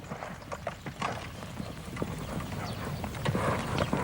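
Horse hooves clip-clopping at a steady walking pace, a run of sharp, close hoofbeats over low wind rumble, continuing throughout.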